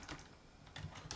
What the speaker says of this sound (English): so we're going to type in